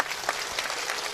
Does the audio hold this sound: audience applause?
yes